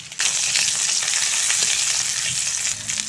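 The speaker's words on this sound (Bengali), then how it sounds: "পেঁয়াজ নেড়েছে একটু ভেজে নিয়েছি" Chopped onion frying in hot oil in a wok, a loud continuous close sizzle with faint stirring scrapes, steady throughout after a sudden start.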